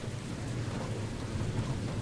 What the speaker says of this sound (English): Rain. It's been a long time since I've gotten rain around here.